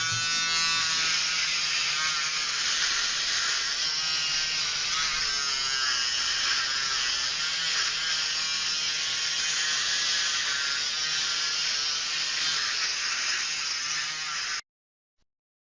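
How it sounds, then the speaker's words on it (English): Electric clippers trim a patient's hair at the donor site before a hair transplant, a steady close buzzing whir that runs unbroken for about fifteen seconds and then cuts off abruptly. "We'll begin by trimming the patient's hair in that area."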